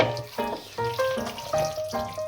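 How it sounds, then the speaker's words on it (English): A jar is rinsed out with liquid in a kitchen while making bolognese sauce, giving a close run of short sloshing, gurgling pours in uneven bursts with a few clinks of glass. "And I have to rinse out the jar there with some, usually I use some milk"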